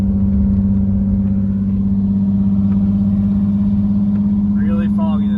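A Ford Thunderbird with a big cam, a 273 gear and overdrive rumbles steadily while cruising, its engine droning low and even, heard from inside the car with a faint chirp near the end.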